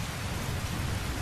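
A heavy rainstorm in the video game Tales of Berseria pours down as a dense, steady roar of rain, loud and unbroken, with no voices over it.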